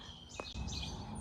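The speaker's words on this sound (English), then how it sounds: "you can just hear the birds chirping" A few faint high bird chirps over a low outdoor hum from an idling C5 Corvette Z06, brief and distant.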